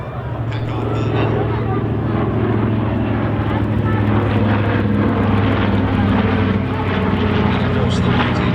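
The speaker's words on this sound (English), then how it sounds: "One of the great iconic fighters of World War II, the P-51" P-51 Mustang WWII fighter with Packard Merlin engine at a Scottish airshow, steady loud propeller-engine drone carrying across the field while an announcer talks over it.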